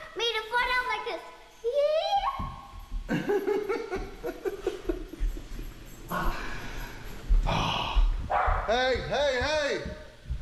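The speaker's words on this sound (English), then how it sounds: "These dogs are not getting along." Dogs bark and yip excitedly in bursts, close by, mixed with people talking and a voice, plus some laughter.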